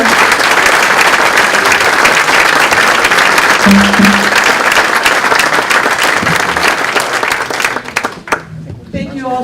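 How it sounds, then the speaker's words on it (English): Loud, dense crowd applause for the governor at a lunch held at an American Legion hall, sustained for several seconds before thinning into scattered claps and a brief voice near the end. "nice round of applause to the governor"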